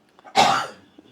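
A single short, sharp cough close to the microphone, rising abruptly and trailing off within about half a second, surrounded by near silence.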